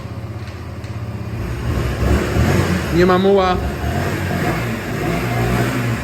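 A 2008 Honda XL 125 Varadero motorcycle engine runs steadily throughout and swells as it is revved, with someone talking close by over the engine.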